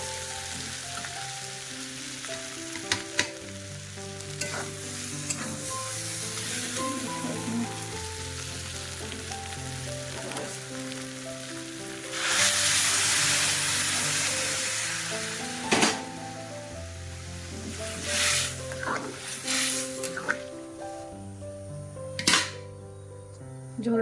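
Water is poured into a pan of sizzling fried curry, setting off a louder burst of hissing spatter partway through, followed by scattered sizzles and clicks over steady background music.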